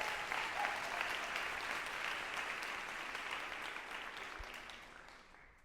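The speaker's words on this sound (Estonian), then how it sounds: "Aplaus!" An audience at a dance gala breaks into sustained applause. Dense, even clapping fills the hall and slowly fades toward the end.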